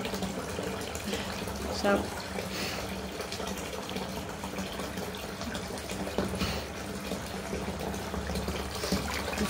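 A bath tap runs steadily as the tub fills for a bath bomb demonstration, a constant close rushing of water while a voice talks over it.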